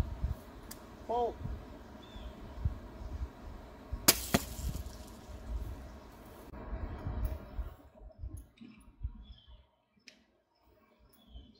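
A Cold Steel Cheap Shot crossbow fires a gimmick arrow, a sharp snap and twang around the middle after some clicking handling noises, followed by a fading quiet.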